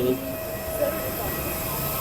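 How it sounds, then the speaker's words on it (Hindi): An Air India airliner's jet engine, heard from very close by outside the plane, gives a steady, broad roar with a faint whine throughout. "अब थोड़ा सा ये देखिए इंजन, और बिल्कुल करीब से अपन प्लेन को जो है वो देख रहे हैं"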